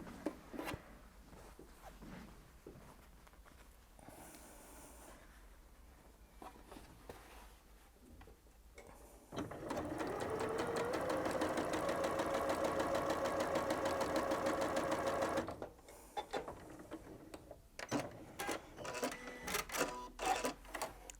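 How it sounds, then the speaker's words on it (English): A sewing machine stitches a partial seam on a bold, modern basket weave quilt, running steadily for about six seconds in the middle of the clip, framed by quieter handling noises before and after. "let's take that to the machine and sew"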